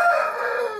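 A black fighting rooster of a lean, roughly three-kilogram breed crows once, loud and close, a sustained harmonic call with no talk over it.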